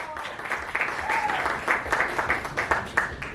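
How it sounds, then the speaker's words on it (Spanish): Loud audience applause opening an improvised comedy sketch, energetic clapping with distinct sharp hand claps over a crowd wash, some voices briefly audible. "un aplauso así fuerte"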